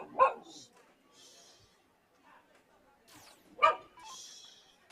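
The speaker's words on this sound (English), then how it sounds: "Looks like Ryan's puppy may have jumped up there in the background." A puppy gives two short, sharp barks in the background at a Saturday afternoon dart tournament, with faint chatter and room noise between them.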